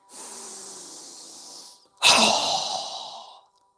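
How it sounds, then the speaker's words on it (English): A yoga breathing exercise: a steady, hissing breath lasts nearly two seconds, then a brief pause, then a forceful, loud exhale that fades over about a second and a half, close to the microphone. "So go ahead and inhale. Strong exhale. Again."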